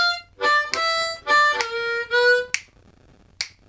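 Blues harmonica lick played with tongue blocking: four bright, reedy held notes in a steady rhythm, then two short sharp percussive hits, played solo and close.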